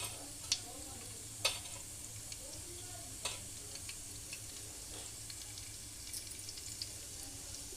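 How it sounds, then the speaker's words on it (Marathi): Steady sizzling of hot oil as cumin and mustard seeds crackle, with a few sharp pops scattered through, close by and fairly quiet. "जिरं राई तडतडली की आपण त्यात कणकट्टा घालून घेणार"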